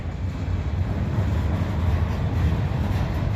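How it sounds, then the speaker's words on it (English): A freight train assembled up in Hammett rolls past, a steady, loud low rumble and rattle of railcars holding constant throughout with no talk. "This is a train, they put it together up in Hammett."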